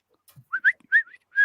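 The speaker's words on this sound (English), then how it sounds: "they're hearing the whistles too" Someone whistles a few short, chirpy notes and upward slides close by, in separate bursts with short gaps between them and no talk over it.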